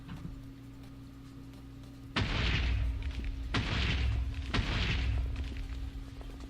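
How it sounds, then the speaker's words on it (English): TNT blowing up in Minecraft: three deep, booming blasts follow one another about a second and a half apart, each with a rumbling tail, over a faint steady hum. "I was hoping there'd be a bit of a bigger explosion, but that's alright."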